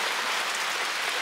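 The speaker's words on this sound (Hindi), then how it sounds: "बाहर का तो बहुत तेज बारिश आई है।" Steady dense hiss of heavy rain pouring down onto an awning, a constant wash of drops with no pauses or voices.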